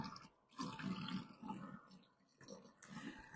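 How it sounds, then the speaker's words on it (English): Tap water running into a denture cup in a sink, soft splashing bursts that start and stop twice, faint and close. "And then I'm going to fill it with water."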